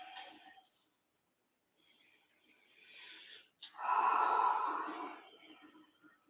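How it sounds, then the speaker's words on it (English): A person breathes deeply while holding a yoga stretch: a breathy exhale, a pause of silence, then a slow inhale and a long, louder sighing exhale, close to the microphone with no talking. "Couple of deep breaths here where you're at."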